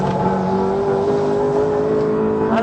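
A Ferrari 458 Speciale mid-engine V8 on the Anglesey track, held at a steady high-rpm note with a slight throttle rise near the end, loud and close with no talk.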